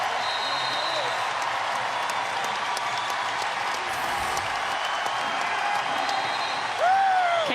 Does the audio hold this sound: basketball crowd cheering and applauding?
yes